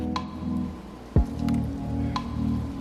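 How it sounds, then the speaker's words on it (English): Oxtail dropped into a pot of Jamaican stew peas, one sharp wet plop, with soft drips and bubbling from the simmering pot before and after. "Just gonna pop your oxtail in there, let it cook along with the peas"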